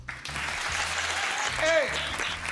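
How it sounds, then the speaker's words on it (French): A TV game-show studio audience applauds steadily throughout, with broadband clapping over music and a brief voice rising near the middle. "Messieurs, dames, on applaudit Romy."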